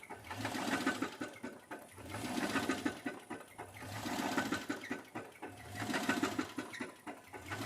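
A 2006 Dodge Magnum R/T engine, pulled from a scrapyard, runs roughly in a loud, uneven, pulsing rhythm, surging and sagging about every two seconds with no voices over it.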